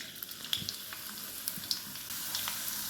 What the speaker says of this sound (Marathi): कढीपत्ता लसूण छान भाजून घ्यायचे लालसर